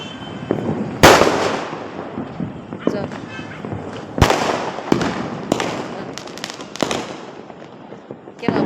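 Diwali firecrackers bang and crackle repeatedly at irregular intervals, several sharp loud bursts up close over a busy background with people talking, in a dark, smoky crowd.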